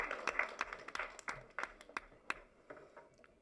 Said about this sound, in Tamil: வாங்க, ஒரு பெரிய கைத்தட்டல் கொடுக்கலாம்.